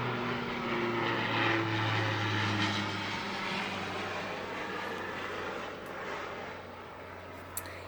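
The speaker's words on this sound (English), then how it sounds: "Another airplane." A propeller airplane drones overhead at a distance, its low engine hum steady and faint, slowly fading as it passes with no voices present.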